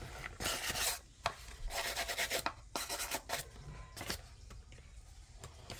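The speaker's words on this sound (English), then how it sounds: "we're going to scrub her down here a little bit" Old leather flappers being scrubbed, a close, steady series of rough brushing strokes in uneven bursts, with no talking.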